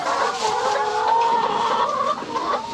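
Chickens cluck steadily at close range, overlapping calls forming a busy, continuous chatter with no talking.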